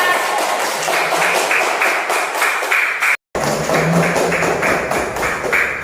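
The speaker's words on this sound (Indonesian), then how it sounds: "Oke, tepuk tangan." A third-grade class applauds together in a classroom, a dense wash of many hands clapping that runs steadily for several seconds, breaks off briefly, then resumes just as loud.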